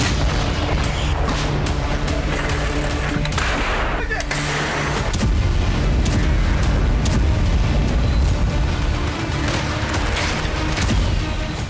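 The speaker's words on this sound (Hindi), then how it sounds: "टैंक और तोप की गर्जना," Booming artillery, MLRS rocket and tank gunfire in the battle for Kursk during the Russia–Ukraine war, a dense, continuous barrage of loud blasts and rumbling impacts with overlapping bursts throughout.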